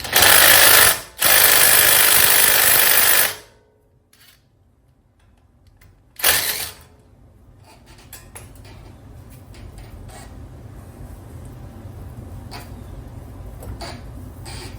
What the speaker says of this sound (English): So we're going to take this bolt out here that holds the hard brake line in place.